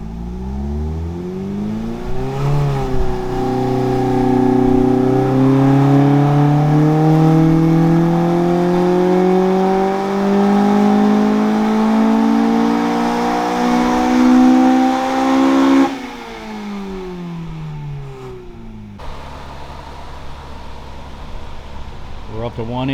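An AE86 Levin with a BEAMS engine swap revs on a dyno, its engine note climbing steadily and loudly for about fifteen seconds before cutting off abruptly, with a low idle and faint background noise afterward.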